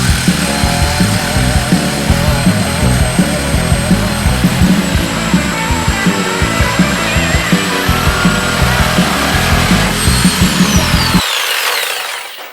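A power tool grinds loudly and continuously through a weld on a 1948 Ford sedan body, a harsh close whine with rapid pulsing that winds down and stops near the end.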